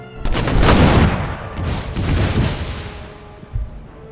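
Massed musket volley fire in the video game Empire: Total War, a rolling crackle of many shots building into a loud, sustained burst, then a second wave and a short final bang near the end, with no talk.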